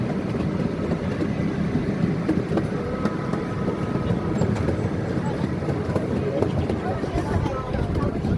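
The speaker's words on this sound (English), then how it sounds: "The train you are riding on is being pulled by a miniature replica of an 1863 CP Huntington steam engine" A miniature replica of an 1863 CP Huntington steam engine pulls a ride train with a continuous clattering rattle, steady and fairly close, with voices and background chatter mixed in.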